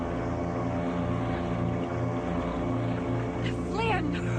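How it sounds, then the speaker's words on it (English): An outboard motor on an inflatable Zodiac boat drones steadily at a moderate level throughout, a constant low engine hum, with a voice briefly speaking over it near the end. "the sound of an outboard motor fading into the distance"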